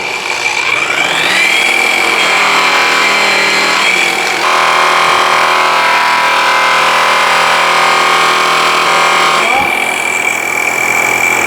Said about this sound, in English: We're gonna buff this out to see if that anodizing came off and if we can get a shine to this.